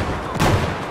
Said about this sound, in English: Here, dude, take that grenade.